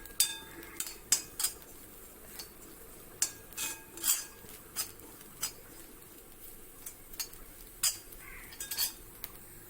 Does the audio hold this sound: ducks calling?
no